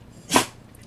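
A single short, sharp sneeze bursts out once in an otherwise quiet room, brief and fairly close.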